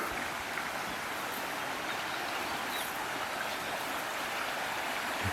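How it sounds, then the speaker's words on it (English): A small, wide waterfall beside a canal gives a steady, close hiss of rushing water, continuous and even, with no voices. "Little waterfall."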